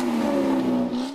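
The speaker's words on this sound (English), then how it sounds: "After revving their engines past the counter-protesters" A Klan motorcade car revs its engine past counter-protesters at a park, producing a loud, sustained engine roar for about a second.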